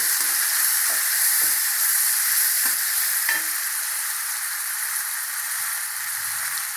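Tomatoes sauté in a pan with a bright, continuous hissing sizzle, punctuated early on by several soft scraping stirs that fade into an even fry.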